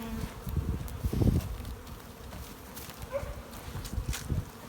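Honeybees in an opened hive give off a soft, steady hum, with nearby rustles and muffled bumps as frames are handled.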